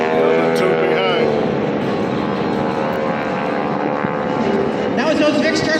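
Vic formations of propeller airplanes flying past over the water at the Jones Beach air show, a loud droning engine roar that swells and fades, with a commentator talking over it.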